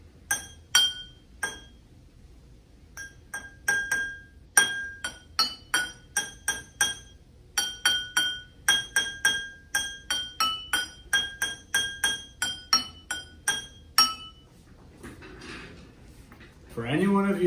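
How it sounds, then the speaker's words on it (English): Glasses filled with water are struck like a musical instrument to play a tune. Bright, ringing clinks come one after another in a quick melodic rhythm, with short pauses between phrases. "our demonstrator is going to play a song for you using the glasses."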